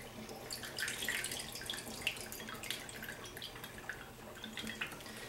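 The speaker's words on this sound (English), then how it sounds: "what I do is drain most of the juice off of a quart of tomatoes" Juice trickles and drips as it drains off a quart jar of home-canned tomatoes, a faint, irregular patter of drops and small splashes close by.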